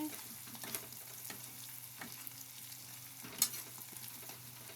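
Spicy chili mixture with turmeric and plenty of hot red chili is stirred in a pan, a low steady sizzle under faint scraping strokes and one sharper clink, with no voices.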